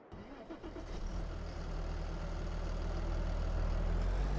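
A Fendt tractor engine in Farming Simulator 22 cranks and catches, then settles into a steady low idle rumble, fairly quiet and alone without talk.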